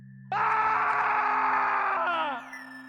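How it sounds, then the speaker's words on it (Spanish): A loud, drawn-out scream of pain cuts in suddenly and holds for about two seconds before breaking off, leaving a low hum behind. "Era un grito, uno que no podría olvidarse así de fácil, uno que solo podría ser de dolor"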